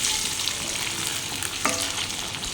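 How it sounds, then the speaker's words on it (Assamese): Eggs sizzle and crackle steadily in hot oil in a pan while being fried for an Assamese-style egg curry, a dense continuous frying hiss with a brief louder spatter midway. "তাৰপিছত যেতিয়া কণীকেইটা ভাজা হ'ব, এতিয়াও হোৱা নাই বাৰু, ৰঙা ৰঙা হ'ব লাগিব।"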